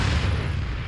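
Cannon fire in Age of Empires 3 Definitive Edition during a historical battle at Fort Duquesne, 1754: a single deep, heavy boom with a rumbling low tail, loud and close.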